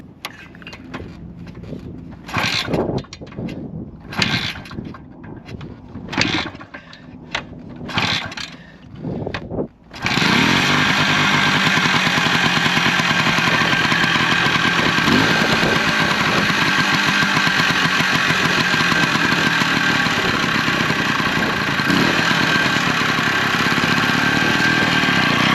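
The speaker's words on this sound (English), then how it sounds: "we should try and give this thing a couple kicks over" A cold motorcycle with a repaired fiberglass tank is given several sharp kicks that sputter without catching, then the engine fires and settles into a loud, continuous, steady running drone close by.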